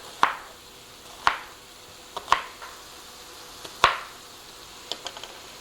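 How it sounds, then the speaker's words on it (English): Knife slicing through food on a cutting board while preparing a cheeseburger impossible pie, a handful of sharp, close taps landing at an uneven pace with quiet gaps between cuts. "We're going to cut it in half. Make slices."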